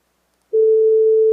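A single steady sine wave tone, played alone, switches on after a brief silence and holds evenly, clean and unaccompanied.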